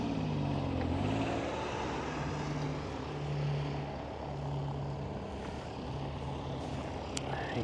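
An airplane engine starts up at a distance, a rough, tractor-like drone that wavers in pitch and then holds steady, continuous and moderately faint over outdoor background noise.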